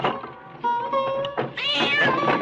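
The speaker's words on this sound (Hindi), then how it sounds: "देख तो बिल्ली रास्ता काट गई" A cat crossing the road lets out several loud, drawn-out meows in close succession, near and clear, with a soft thunk between them.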